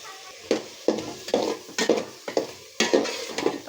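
Spice paste with tomato and sliced raw mango being stirred in a pan, a series of about eight rhythmic scraping strokes over a soft sizzle, close and clear with no voices.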